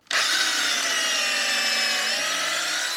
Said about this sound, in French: Ensuite, je prends la petite mèche à bois.